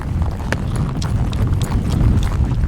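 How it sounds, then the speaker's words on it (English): A horse trotting steadily in an arena during funnel barrel work, hooves clip-clopping in a quick even rhythm close by over a continuous low rumble, with no talking. "Nope, just trotting."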